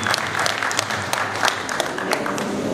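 Wedding guests on their feet clapping together, a dense, lively round of applause with sharp individual claps throughout.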